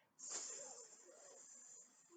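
A voice imitates a snake's hiss with a long steady sibilant s sound, sustained for about two seconds, close and fairly quiet, alone without other talk.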